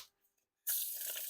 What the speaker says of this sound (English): the riffle shuffles and bridge shuffles aren't too bad